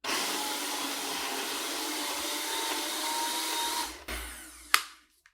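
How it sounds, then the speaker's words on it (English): A kitchen machine purees white cheddar cheese with a steady, loud motor whir that runs for about four seconds, then stops and spins down, followed by a sharp clunk. "you want to puree it down until the cheddar's probably about twice the size of a ballpoint pen end"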